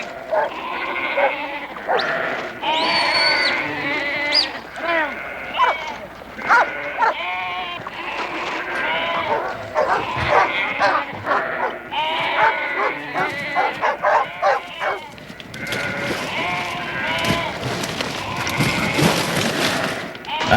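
Sheep bleat over and over in a crowded pen while herding dogs bark among them, the calls overlapping densely and loudly throughout, with a narrator's voice running underneath.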